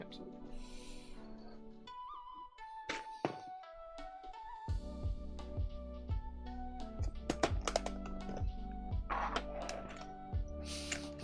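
Keycaps are pressed onto a mechanical keyboard, a run of quick clicky thocks and taps close to the mic, set over a faint musical background with brief speech-like sounds.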